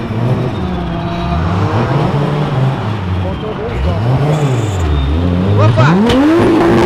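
A BMW E36 with a 2JZ engine revs repeatedly while leaving a car event, rising and falling in pitch, loud and close, with tire noise and a bit of background chatter.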